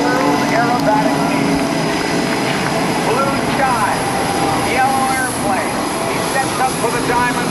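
Steady engine drone of an aerobatic airplane performing a diamond loop with a tumble at the 2010 NAS Oceana airshow, loud and continuous while a commentator talks over it.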